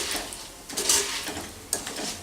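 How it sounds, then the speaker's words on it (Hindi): Poha chivda is tossed and stirred in a pan, giving a short stretch of close scraping and rustling with a few sharper clinks against the metal. "अच्छे से हम इसे मिक्स कर लेंगे"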